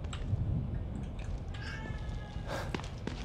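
Cat meowing in The Evil Within 2 video game, a few short mews close by over a low, murky ambient background, with faint soft thuds and rustles around them.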